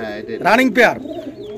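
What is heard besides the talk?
domestic pigeons cooing, fancy snake-eye pigeon pair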